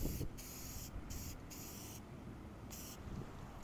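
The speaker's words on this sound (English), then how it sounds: "I found some Krylon satin black and I'm gonna spray this over the top." Krylon satin black spray paint hisses from an aerosol can onto BMW E46 steering wheel trim in a series of short, close bursts separated by brief pauses, faint overall and with no talking.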